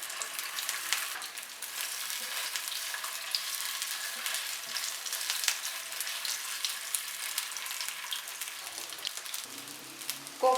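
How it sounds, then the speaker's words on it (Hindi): Koftas (meatballs) frying in three to four tablespoons of oil in a pan, a steady rain-like crackling sizzle held for the whole stretch with faint scattered pops and a few soft knocks near the end, no speech. "पैन में डालेंगे 3 से 4 टेबलस्पून ऑयल और इसमें ये कोफ्तों को फ्राई करेंगे"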